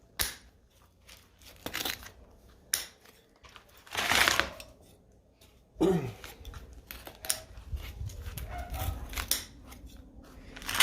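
Scissors snipping plant roots that poke out around a strainer pot used as a planter, a few crisp close cuts separated by rustling and crunching of roots and handling noise, no talking.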